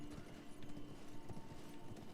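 Hooves of a ridden horse in a video game clip-clop in a steady walking rhythm, soft and muffled under a low ambient game hum.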